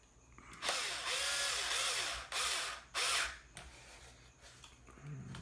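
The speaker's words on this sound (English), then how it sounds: "I'll go ahead and switch over to the power driver now." A power screwdriver drives a screw into plastic on a Traxxas Slash 2WD LCG RC truck chassis, three loud close whirring bursts of motor and ratcheting clutch, each about a second long, with short pauses between and no talking.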